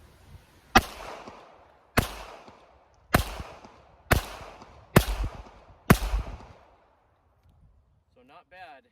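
Six gunshots from a Smith and Wesson Bodyguard .380 pistol at close self-defense range, evenly spaced about a second apart, sharp and close, then a short spoken remark at the end.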